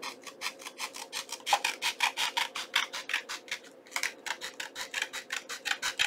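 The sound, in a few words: trimming paper for a junk journal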